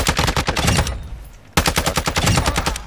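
An unsilenced gun with a choke in Call of Duty Modern Warfare II fires two rapid bursts of loud, sharp automatic shots with a short pause between them.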